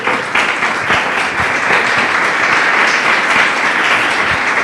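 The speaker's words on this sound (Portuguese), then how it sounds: "Louve a Ele com suas palmas" A church congregation claps their hands together strongly during a worship service, a loud, dense, continuous wash of clapping from many people close by, with no voices over it.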